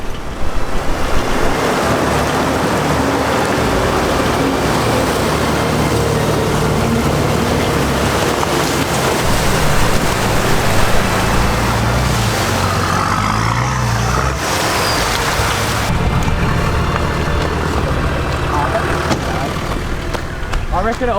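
A Toyota Land Cruiser 80 series 4x4 makes a deep river crossing in high country, with a constant loud rush of water and wind buffeting the microphone. A person talks over it.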